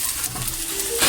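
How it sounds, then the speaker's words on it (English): Chopped spring onion frying in a pan, a steady close sizzle and crackle of oil with light stirring scrapes throughout. "I'm frying spring onion."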